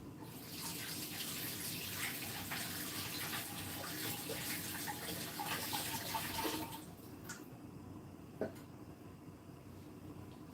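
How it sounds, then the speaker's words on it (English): Fresh ginger being washed under a running tap: a steady, fairly close stream of water that stops partway through, followed by a few drips and light handling noises. "Let's get the ginger washed as well."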